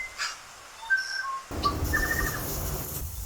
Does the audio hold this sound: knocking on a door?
no